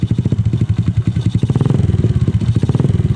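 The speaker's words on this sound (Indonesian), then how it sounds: "Kita tes dulu, kita nyalain motornya." Motorcycle engine with heavy exhaust smoke, idling loud and close with a fast rough putter, then revved so the pulses quicken into a rapid throbbing rattle.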